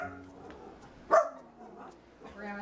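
A small household dog gives a single sharp bark close by, with people talking before and after it in a quiet room.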